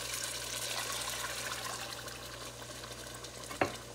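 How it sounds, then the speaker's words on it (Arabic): Hot water pours into a simmering Tunisian potato and meat stew in a pot, giving a soft, steady sizzling trickle, fairly quiet and close, with a couple of sharp clinks near the end. "توا باش نمرق بالماء السخون"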